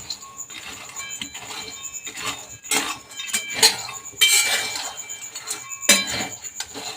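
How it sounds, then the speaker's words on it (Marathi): Peanuts roasting in a kadhai over a low gas flame for peanut-jaggery laddoos, with close metallic scraping and clinking of a spatula against the pan in irregular bursts, no talk. "जे शेंगदाणे घेतले ते भाजून घेऊ गॅस कमीच ठेवायचा आहे आणि शेंगदाणे असे छान भाजून घ्यायचे"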